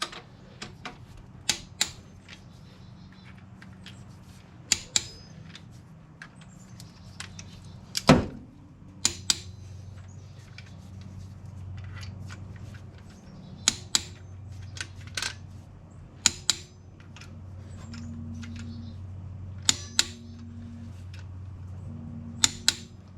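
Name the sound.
torque wrench clicking while loosening cylinder head bolts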